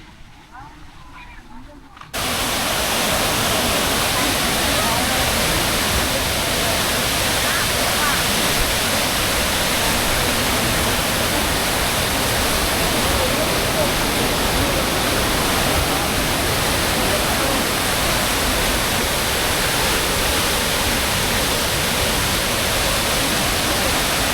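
Water rushes at Malampuzha dam in Kerala, starting suddenly after a quiet moment and then holding as a loud, steady, hissing roar right up close.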